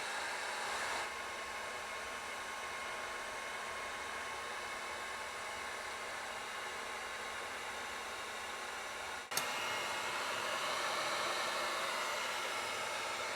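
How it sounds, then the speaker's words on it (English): A heat gun blows on a glued-on bathroom mirror with a steady, close airy roar. A brief knock interrupts it near the end, and the blowing carries on afterward. "I'm going to put the heat gun on this thing"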